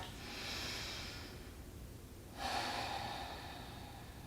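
Two slow, deep breaths during yoga practice, a long inhale and exhale heard close and soft with no talking.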